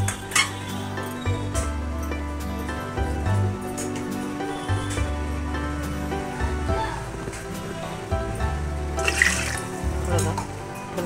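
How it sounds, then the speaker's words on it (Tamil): Water is poured into a pot of cooked, thickened dal for idli sambar in a home kitchen, a steady liquid splash with light clinks of metal utensils while a voice talks over it. "இப்போ ஒரு டம்ளர் போல் தண்ணி ஊற்றிட்டு ஒரு கொதி கொதிக்க வச்சு இறக்கி வச்சுக்கலாம்."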